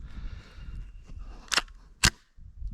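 A Marlin Camp Carbine Model 9 bolt chambers the first round from the magazine, heard as two sharp metallic clacks close together over low room noise.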